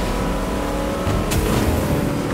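Boat engine in the Fortnite video game, a steady droning motor held at constant loudness throughout, with a brief brighter whoosh partway through.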